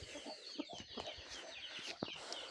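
Chickens cluck softly and repeatedly nearby, a hen with her chicks on a farm, the short irregular clucks and faint peeps overlapping at low volume.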